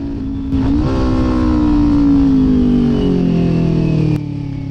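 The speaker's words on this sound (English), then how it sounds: "I absolutely love getting off the freeway just because you can rev match all the way down and it sounds so good." A Kawasaki Ninja 400 motorcycle blips its throttle on a downshift. The engine note jumps sharply and then winds smoothly down, a loud, close, steady engine tone with no talk.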